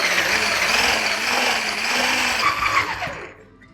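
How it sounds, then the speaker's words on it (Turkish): Zebra cake batter being whisked after oil and milk are added, a steady whirring mixer drone running loud and continuous for several seconds before cutting off near the end, with no talking. "Yağımı ilave ediyorum. Sütümü ilave ediyorum. Bir iki kere şöyle çırpıyorum."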